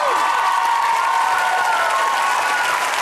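A studio audience at a televised talent show semi-final claps steadily and loudly throughout, with faint crowd murmur mixed in.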